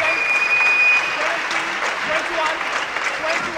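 After a long match, a crowd applauds Chinese player Han Li with steady, full clapping, and a commentator talks over it.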